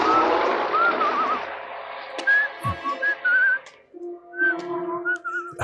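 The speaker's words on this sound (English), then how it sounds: "How terrifying would that be if a tow truck driver just walked up to you whistling?" A man whistles a wavering tune from a movie playing on TV, first over a noisy mix, then as clear separate phrases with short pauses and a few clicks, close and fairly loud.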